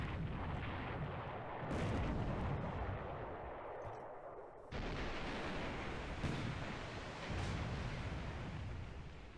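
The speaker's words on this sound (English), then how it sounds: "That's another anti-aircraft gun firing there." Anti-aircraft guns firing in the naval war game War in the Pacific: heavy, continuous rumbling barrage with loud booming bursts that swell and fade over a dense roar, no voices.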